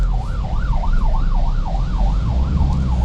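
An ambulance siren wails loudly in a steady rising-and-falling cycle, close by, over a deep rumbling engine.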